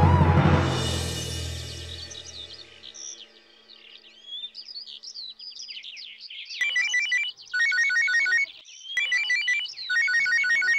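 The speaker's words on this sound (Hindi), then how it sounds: "माला जी का फोन।" A mobile phone ringtone signals an incoming call, with a repeating electronic chirping melody. It comes in pulsed bursts after a brief fading musical tail and plays alone, loud and close, in a Hindi TV drama scene.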